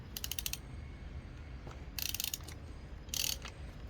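Ratchet wrench clicking in three short bursts while working the bolts of a VW Golf 4 flywheel with a broken clutch, each burst of rapid metallic ticks standing out over steady low workshop rumble.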